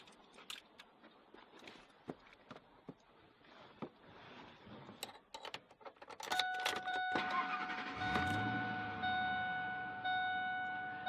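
Clicks and rustles lead into the engine of a 2001 Ford F-150 SVT Lightning pickup cranking and catching, then a steady low rumble of the truck idling close by.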